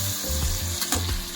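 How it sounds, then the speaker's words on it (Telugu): Onion paste with ginger garlic paste fries in a pan for vegetable biryani, producing a steady close sizzle with a low hum underneath and a couple of brief stirring scrapes. "ఆనియన్ పేస్ట్ ఇంకా జింజర్ గార్లిక్ పేస్ట్ వేసుకొని ఫ్రై చేసుకోవాలి."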